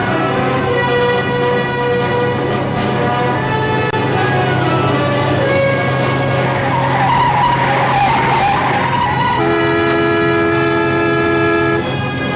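Tires of a truck skid loudly as it is forced off the road in a 1955 film noir, a long sustained screech with wavering tones running the whole stretch, shifting pitch midway, with no voices.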